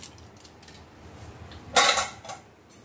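A spoon stirs soupy Maggi instant noodles in a pot. A brief, bright metallic scrape and clink stands out near the end over a quiet background. It sounds close and lasts about a second, with no voices.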